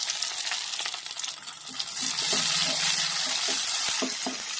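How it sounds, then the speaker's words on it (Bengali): Onion and chopped tomato fry in hot oil with a continuous sizzle, broken by clinks and scrapes of stirring that grow louder and busier in the second half; no speech. "পেঁয়াজটা একটু ভাজা ভাজা হয়ে যাওয়ার পর একটু টমেটো কেটে ছোটো ছোটো করে দিয়ে দেবো।"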